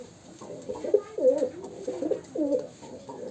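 Rajshahi local Giribaz pigeons cooing close by, a run of soft, repeated low coos with short gaps between them.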